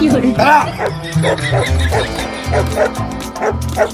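Small dog yipping and whimpering in short bursts, with people talking over it throughout.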